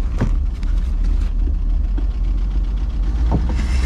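A 1964 Rambler American wagon engine, restarted after 26 years, runs steadily nearby with a loud, continuous idle and a faint rhythmic pulse, no talking over it.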